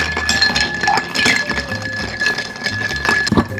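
A Manhattan cocktail being stirred in a mixing glass to chill it, with ice clinking and rattling against the glass in a steady run of close, bright chinks throughout.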